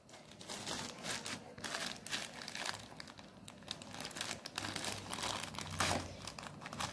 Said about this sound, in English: He's trying to tear the packet.